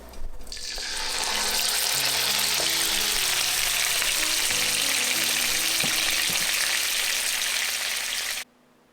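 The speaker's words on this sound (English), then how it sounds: "And now add your marinated mutton into the pan." Marinated mutton dropped into tempered oil in a pan bursts into a loud, steady, close sizzle that roars for several seconds before cutting off abruptly, no talking.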